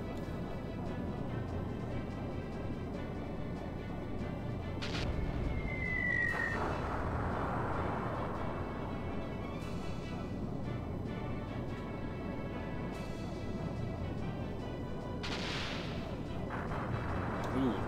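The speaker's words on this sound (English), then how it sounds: "Finally hits us with that cannon." Cannon fire in the video game Skies of Arcadia Legends booms in several separate blasts over a dense bed of game sound, spaced a few seconds apart.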